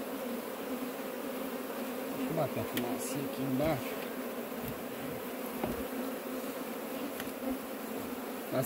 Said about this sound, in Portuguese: Muita abelha aqui embaixo.